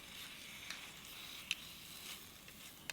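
Scrambled eggs cook over a very high heat backcountry camping stove in a poor-quality pan, giving a faint, steady sizzle with a few soft scraping or clicking ticks.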